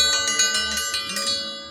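A dinner bell clangs repeatedly at a ranch corral, ringing in a steady, bright rhythm with sustained metallic overtones, fairly close and alone.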